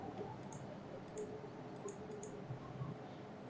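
A few faint, soft computer mouse clicks, spaced apart over a quiet background hiss, as someone works in road corridor design software.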